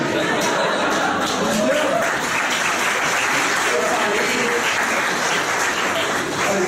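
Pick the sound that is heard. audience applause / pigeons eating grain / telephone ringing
audience applause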